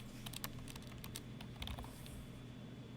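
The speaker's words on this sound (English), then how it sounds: "I'm going to type in Nathan." Typing on a computer keyboard, quick irregular clusters of light key clicks with short pauses between bursts, faint and close in a quiet room.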